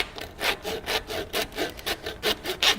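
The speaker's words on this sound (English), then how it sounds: "Take a saw and begin to score through" A hand saw scores back and forth through bone of a head during an anatomical dissection, steady rhythmic rasping strokes, about a dozen in quick succession, close and fairly quiet.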